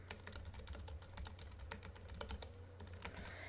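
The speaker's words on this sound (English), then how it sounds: "If I can stop typing commas." Someone types on a computer keyboard while coding a web page, a rapid, uneven run of light close clicks and key taps that fills the whole stretch in a quiet room.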